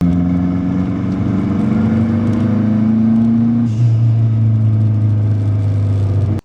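A Renault 5 GT Turbo with a 2.5-inch stainless straight-through exhaust and no baffles holds a loud, droning rev that climbs slowly, then drops to a deeper steady idle before cutting off.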